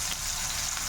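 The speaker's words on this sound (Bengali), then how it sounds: "পেঁয়াজটা এইদিকে লাল লাল করে ভেজে নিয়েছি" Onions sizzling in hot spiced oil in a pan, a steady close crackling fry with no talk over it.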